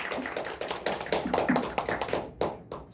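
Applause from a crowd at a candidate's press conference announcing a run for Ansan city council, steady and continuous clapping, fairly close and sustained throughout with no talk.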